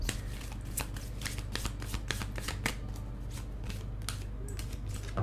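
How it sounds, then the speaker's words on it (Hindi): A deck of tarot cards is shuffled by hand during a reading, making a steady run of crisp, papery riffles and snaps close to the listener. The shuffling carries on for several seconds with no one speaking. "and last shuffle"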